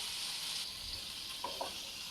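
A steady, bright sizzling hiss of drained vegetable pieces frying in hot oil tempering, close and continuous, with a couple of faint clinks partway through.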